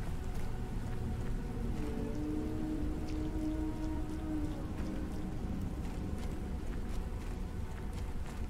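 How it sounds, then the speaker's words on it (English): Rain falls in the survival game Planet Crafter, a steady, even hiss of drops on surfaces with a low tonal hum beneath and no voices. "Now there's rain."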